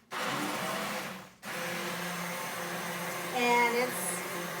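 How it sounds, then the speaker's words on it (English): Immersion blender whirring steadily in a pot of black bean soup, a loud continuous motor drone that cuts out briefly, restarts and rises in pitch near the end as it churns the beans. "So I do like an immersion blender."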